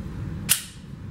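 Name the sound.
Glock 43 pistol gunshot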